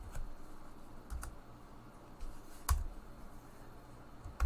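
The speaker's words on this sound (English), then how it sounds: "I'll start typing." Light typing on a computer keyboard while entering text, with scattered soft key clicks and a few sharper taps, quiet and close with no talk.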